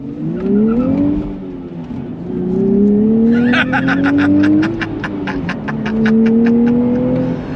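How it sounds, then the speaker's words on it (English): A 2024 Nissan Fairlady Z engine revs hard on throttle, pitch climbing through the gears in repeated rising sweeps, loud and close with a rapid popping burble midway. "it's awesome to be able to go through the revs"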